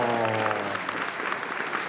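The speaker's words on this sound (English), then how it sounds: "Please, can I get a warm round of applause for our first finalist?" Warm applause from a hackathon closing-ceremony audience in Sydney as a team of finalists is called up, dense steady clapping filling the room with a faint tonal hum under the first part.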